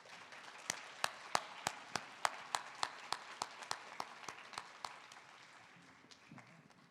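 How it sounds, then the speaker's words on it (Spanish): An audience in a lecture hall claps about fifteen times in a fairly even rhythm as a speaker is welcomed, the claps loud and sharp at first, then thinning and fading toward the end. "pido que lo recibamos con un caluroso y merecido aplauso"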